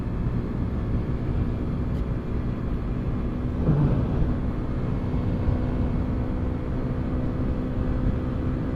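Honda CB 125 F motorcycle accelerating through the gears, a steady low engine drone with broadband wind rush, continuous and close, with no clear pitch rise.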